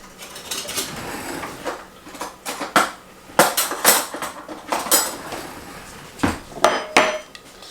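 A spatula clatters and scrapes against a cooking pot in a home kitchen while supper is made from garden-preserved food, with irregular metallic knocks, rattles and short scraping strokes up close and no talking.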